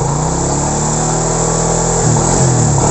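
A motorcycle engine, running unevenly on a weak battery, revs up with a steady mid-pitched drone and harmonic hum, then rises and dips at the end, sounding close and loud with no talking.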